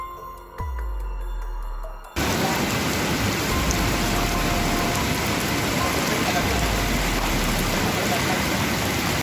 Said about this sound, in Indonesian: Hujan deras yang mengguyur sejumlah daerah di Sumatera Barat